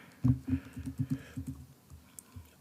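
Quick bursts of keystrokes clatter on a computer keyboard while a letter template is typed out, close and moderately quiet, slowing to a few scattered taps near the end.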